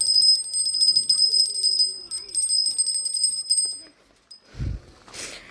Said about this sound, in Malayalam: നമുക്ക് തത്തനെ മണിയടിച്ച് പിടിപ്പിക്കാം.